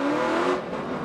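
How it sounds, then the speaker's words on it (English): NASCAR Sprint Cup race cars at the 2010 Loudon race roar past on pit road, a loud engine drone that rises and then falls away within a second. "you saw the 2 cars that went by in pit road"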